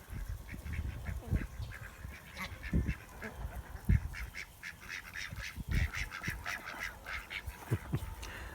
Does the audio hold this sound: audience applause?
no